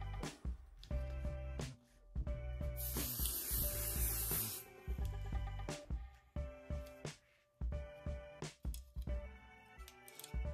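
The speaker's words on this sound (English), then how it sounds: "I'm gonna spray just a little bit." An aerosol can of embroidery stabilizer sprays once in a close, sustained hiss lasting about two seconds, with soft background music playing before and after.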